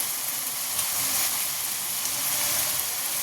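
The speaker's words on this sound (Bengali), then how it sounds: "মশলাটা কষানো হচ্ছে" Spice paste with turmeric sautéing in a pan, giving a soft, even hiss of frying that holds steady the whole time, with no voices.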